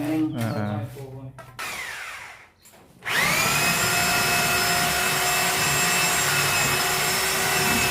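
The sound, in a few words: drilling with a small drill bit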